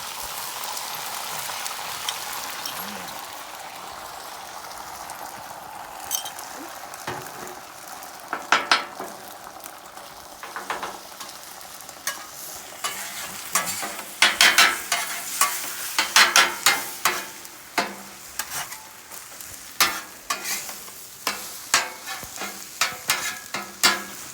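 Eggs frying and being stirred on a hot griddle for chicken fried rice, a soft continuous sizzle broken by sharp scraping spatula taps that grow busier and louder toward the end.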